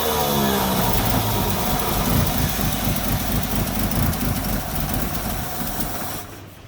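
A 1959 Ford tow truck engine runs on the carburetor with a loud, rough, steady roar close by, holding for several seconds before dropping off abruptly near the end.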